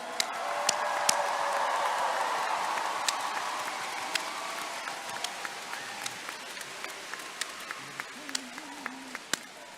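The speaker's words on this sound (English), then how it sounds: "A big round of applause again for our women Gojua dancers." A crowd at the 2023 North American Indigenous Games opening ceremonies applauds women dancers. The broad, rain-like wash of clapping is strongest at first and slowly thins to scattered claps, with a faint voice near the end.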